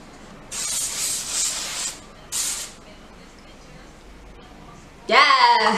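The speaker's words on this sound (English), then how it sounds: "my little extra step for some extra shine is some sheen spray" Sheen spray hisses from an aerosol can onto hair in two close bursts, a longer one then a short one, followed by quiet and a voice starting to speak.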